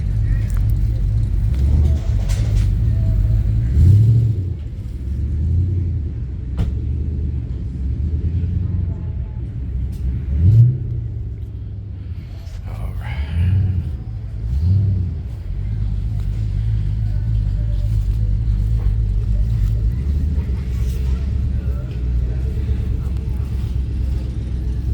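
A 1966 Mustang Fastback with an SVT Cobra engine idles loud and close, a deep steady rumble with a few brief blips of revving, while someone talks over it.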